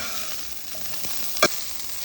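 A vegetable stir-fry with salt, made from winter cool-season crops, sizzles faintly in a pan as a soft, steady hiss with one brief sharp clatter near the end.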